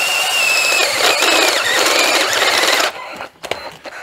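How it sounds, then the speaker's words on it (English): A 5/8 inch hole being drilled in the middle of a metal part for a 1940 Chevy with a 327 build, a loud steady whine with a high pitched squeal that runs about three seconds and then cuts off into quieter clatter. "I gotta drill a 5/8 hole in the middle of this right here"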